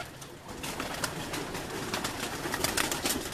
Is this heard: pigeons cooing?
yes